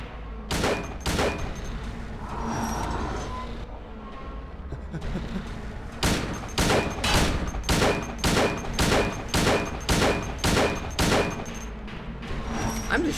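Rapid, evenly spaced gunshots from Silent Hill 2 gameplay follow a couple of earlier shots. The loud blasts repeat about every half second over steady game background sound, with occasional talk underneath.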